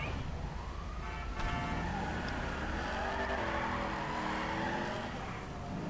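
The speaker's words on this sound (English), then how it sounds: "This car actually sounds pretty nice." A car engine drives in a video game, a steady loud drone whose pitch rises and falls gradually, with no one speaking over it.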